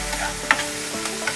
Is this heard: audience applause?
no